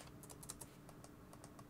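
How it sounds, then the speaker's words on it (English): Quiet typing on a computer keyboard while coding in JavaScript, a quick irregular run of light key clicks close by over a soft background hum. "And I'm going to start typing."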